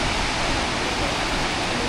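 Tumpak Sewu waterfall in Java, Indonesia roars as a steady, loud broadband rush of falling water, unbroken and close, with no voices.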